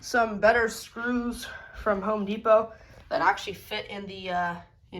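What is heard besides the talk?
No distinct noise like a dog, phone or traffic.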